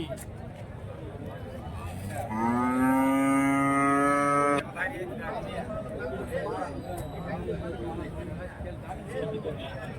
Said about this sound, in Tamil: இங்கே வந்து ஒரு ஜெர்சி மாடு வந்து இருக்கு